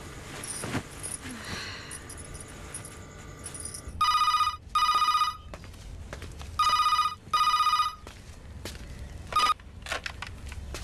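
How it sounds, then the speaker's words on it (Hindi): A telephone bell rings at home in two pairs of loud trilling bursts, then briefly once more, over faint background noise. "अशोक पापा को कौन फोन है?"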